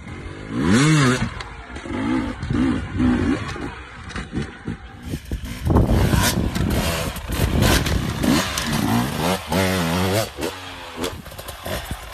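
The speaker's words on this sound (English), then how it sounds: "He is now racing for Husqvarna Rockstar Extreme Racing Team with Husqvarna TA300 TPI bike" A Husqvarna TE 300 TPI enduro motorcycle ridden at a race, its two-stroke engine revving and rising in pitch in repeated close bursts, with a commentator's voice and crowd noise heard at times between the revs.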